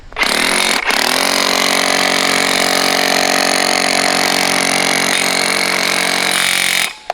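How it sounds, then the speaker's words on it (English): A loud, continuous power-tool whine of a hammer drill running on hammer setting for driveway edging, several seconds, starting and stopping abruptly. "This drill's on a hammer setting."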